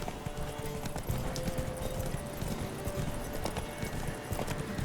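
Horse hooves clip-clopping steadily in The Witcher 3, a continuous run of close, moderately loud footfalls with a faint whinny over game ambience and no talk.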